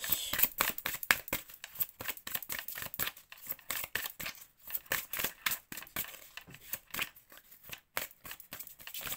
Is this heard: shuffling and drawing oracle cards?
yes